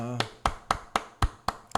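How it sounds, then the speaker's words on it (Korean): A church congregation at a Sunday afternoon service applauds, heard as a string of sharp, evenly spaced claps in a steady rhythm, following a brief voice at the start. "우리 하나님 앞에 영광의 박수 올려드립니다."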